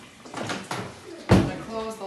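A single solid thud as the lid of a Haygain hay steamer is shut over hay soaked with water, with a person talking before and after.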